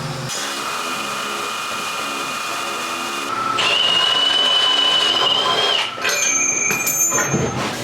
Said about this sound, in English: Now I just got to drill this hole out to the size of this sensor, tap it, and we got it.